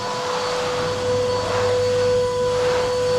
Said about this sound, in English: Just having the final hoover up now.